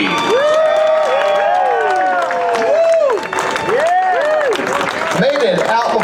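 A crowd applauds and cheers at a Krazy Kirk and the Hillbillies show at Knott's Berry Farm. The clapping is loud and continuous, with whoops and excited voices mixed throughout.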